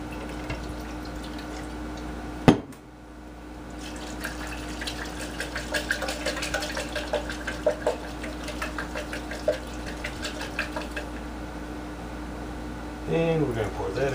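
Wine poured from a bottle into a pan of pasta, a soft trickling, splashing pour running for several seconds beneath steady kitchen hum, with a sharp knock near the start.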